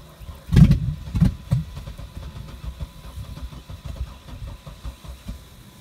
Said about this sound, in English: Come on, blazer, start.